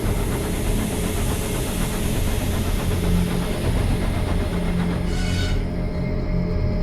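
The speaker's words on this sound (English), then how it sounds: "That sounds like a steam engine." A steam engine in the Trainz video game chugs with a steady rhythmic rumble, and a short burst of hissing steam comes near the end.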